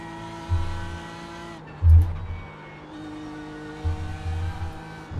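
Race car lapping a track in a racing video game, practicing for the Nürburgring 24 hours, with a steady engine drone, gear changes and brief bursts of revving and tire noise, no talk.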